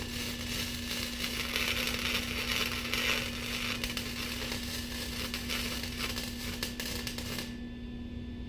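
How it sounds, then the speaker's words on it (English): Arc welding on scrap metal while building a workbench, a continuous dense crackling sizzle with a steady electrical hum underneath, running for several seconds before cutting off abruptly near the end. "Then I'll go back and lay a little bit of weld to fill the gap."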